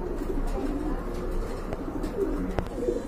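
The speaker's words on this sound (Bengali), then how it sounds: "অনেক বড় সাইজের কবুতর, দেখার মতো একটা পেয়ার" Large pigeons coo softly in a loft, low and fairly faint, with a few repeated calls over a steady background hum and no talk.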